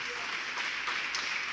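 A church congregation breaks into dense, steady applause, a wash of many hands clapping together, heard briefly.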